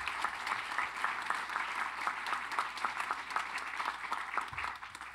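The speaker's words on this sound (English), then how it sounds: "Let's give her a round of applause." Sustained audience applause fills a hall at a university event celebrating Medgar and Myrlie Evers, a dense, steady wash of clapping from a sizable crowd lasting several seconds with no speech over it.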